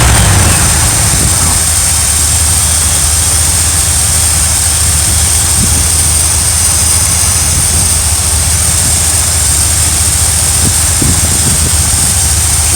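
An RV engine idling fast, a loud, steady low rumble with a constant hum that holds unchanged throughout, with no one talking.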